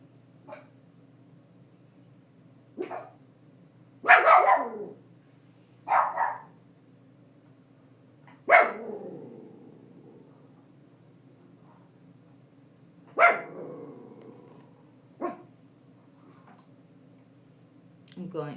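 Scattered dog barks and yips ring out at irregular intervals over a long stretch, with quiet gaps between the bursts.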